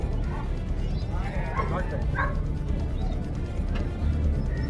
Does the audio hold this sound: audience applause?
no